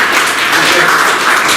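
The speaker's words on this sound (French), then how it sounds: "On l'applaudit très très fort" Applause from a ceremony audience honouring couples married over fifty years, a dense steady wash of clapping held at one loudness throughout, with faint voices underneath.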